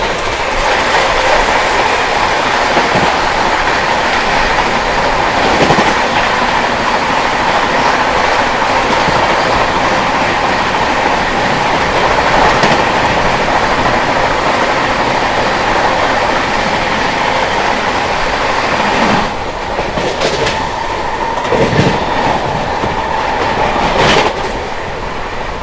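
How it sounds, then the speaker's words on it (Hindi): Sikkim Mahananda Express passenger train running at speed, heard from on board as a steady loud rumble with rhythmic clickety-clack of the wheels over rail joints throughout, without talk. "ट्रेन अपनी जो है शिकोहाबाद जंक्शन स्किप करने जा रही है।"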